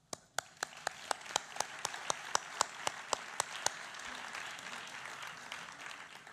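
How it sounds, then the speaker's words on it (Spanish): Audience applause at the Basque journalism awards ceremony, 2015: a dozen distinct, fairly loud claps in a steady rhythm over a soft bed of crowd clapping, thinning out toward the end. "Yo creo que eso merece un primer aplauso."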